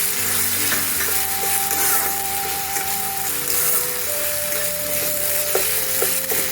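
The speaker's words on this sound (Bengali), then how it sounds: "পেঁয়াজটা লাল লাল করে ভাজা হয়ে গেছে, এখন এই আদা রসুনের পেস্টটা আমি দিয়ে দিলাম" Onions frying in a pan with ginger-garlic paste just added, a steady close sizzle with faint utensil clinks and stray tonal background sounds, no talk.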